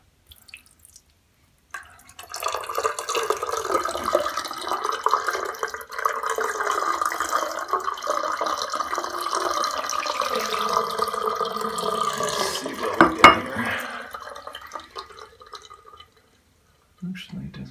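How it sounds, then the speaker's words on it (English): Water runs and splashes into the drain of a newly built shower pan with subway tile, a steady trickling stream lasting most of the clip, with a brief louder splash near the end. "I want to see how it does drain. So this is the reality test here."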